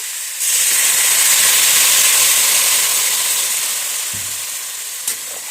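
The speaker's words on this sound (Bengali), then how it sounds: "এবার আমি এটাতে জল দিয়ে দিচ্ছি" Water hits a hot pan of fish and ridge gourd curry and sets off a loud, steady hissing sizzle and steam burst that starts suddenly and carries on evenly, easing off slightly toward the end.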